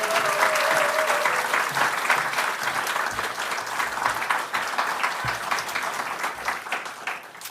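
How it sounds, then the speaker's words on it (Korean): A church congregation at a Korean autumn dawn revival service breaks into sustained, fairly loud applause that carries on evenly and begins tapering off toward the end. "우리 목사님 격려하는 의미로 큰 박수로 모시겠습니다."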